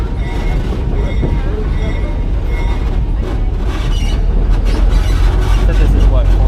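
A train rolling south along the WK&S Railroad tracks past a Route 737 crossing, giving a steady, close, heavy rumble with metallic wheel squeal and clatter throughout, while faint voices carry in the background.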